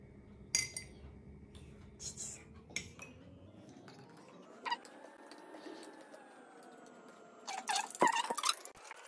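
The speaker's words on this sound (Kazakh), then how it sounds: "Мінекей араластырдық." A metal spoon clinks and scrapes inside a glass while stirring salt into water, with a few sharp taps near the start and a cluster of quick clinks at the end, close and fairly quiet.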